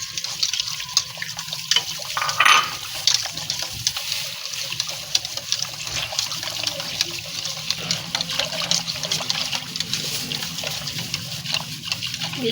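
Running water splashes and trickles steadily from a tap while beef is washed, with soft handling and rinsing sounds in a sink, no talking.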